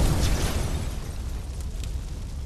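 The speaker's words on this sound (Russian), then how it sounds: "внезапно раздается сильный взрыв, и отель охватывает огнем" A loud, sustained explosion engulfs a hotel in fire in a video game story, a heavy booming roar that stays dense and rumbling throughout with crackling on top.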